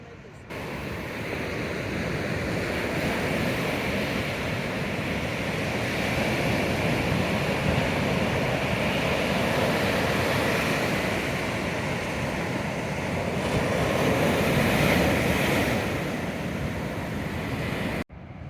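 Atlantic Ocean waves washing onto a beach on a chilly, overcast May day, a continuous broad roar of surf mixed with wind buffeting the microphone.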